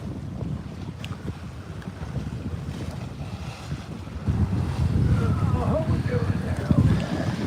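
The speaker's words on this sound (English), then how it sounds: "I'm trying to block the wind so it's not so windy if I hold like this." Wind buffets the microphone on a Great Lakes sailboat in a steady low rumble that grows stronger partway through, with faint water and boat noise beneath.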